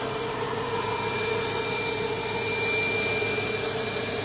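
A 2002 Mercedes CL500 engine idles after new spark plugs and coil packs, giving a steady, even whir with a constant low hum and a faint high whine and no misfire.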